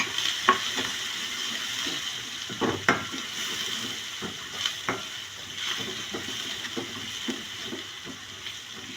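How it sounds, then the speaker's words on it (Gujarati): Onions sautéing in hot oil on top of spiced ginger, chilli and garlic paste for a green pea curry, giving a steady soft sizzle broken by repeated stirring scrapes and clicks over nine seconds. "તે સંતળાઈ જાય એટલે આપણે તેમાં ડુંગળી નાખીશું"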